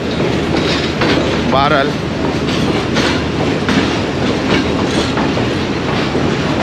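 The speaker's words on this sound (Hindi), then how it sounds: "अब मैं अपने लोकोमोटिव के पास पहुंच गया हूं, 6 डाउन ग्रीन लाइन के" A Pakistan Railways Green Line passenger train hauled by a GU40 diesel locomotive rumbles along the rails with steady clickety-clack and brief wheel squeals, loud and continuous, while someone speaks briefly.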